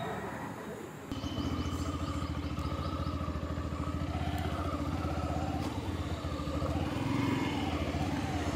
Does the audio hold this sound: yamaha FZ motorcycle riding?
yes